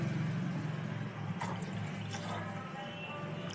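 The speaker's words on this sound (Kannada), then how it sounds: "ಒಂದು ಗ್ಲಾಸ್ ಟೀ ಮಾಡಲಿಕ್ಕೆ ಮನೇಲಿ ಒಂದೂವರೆ ಗ್ಲಾಸಷ್ಟು ನೀರು ಹಾಕ್ಕೊತಾ ಇದ್ದೀನಿ" Water poured from a glass into a pan on a home stove for tea, a steady close splashing fill that runs for a few seconds and then thins out.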